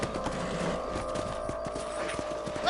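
Rhythmic hoof clip-clops of horses in Red Dead Redemption at a steady walking pace over a low ambient hum, fairly close and moderate in volume.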